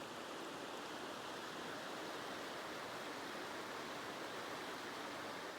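Hoh River in Olympic National Park flowing beside a campsite, a constant soft hiss of moving water, even and unbroken, heard alone at moderate distance.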